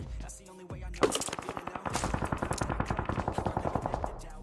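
Rapid automatic gunfire crackles through a battle royale game fight, a few scattered shots giving way to a sustained, steady burst of loud repeated shots that runs to the end.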